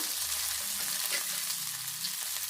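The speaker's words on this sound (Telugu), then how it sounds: "ఇప్పుడు ఈ కొబ్బరి మరమరాలు మనము ఈ తురుము చేసుకున్నాం కదా, ఇదే నెయ్యిలో వేపుకోవాలి" Grated coconut and puffed rice frying in ghee for a sweet, a steady soft sizzle with faint stirring scrapes, quiet and continuous throughout.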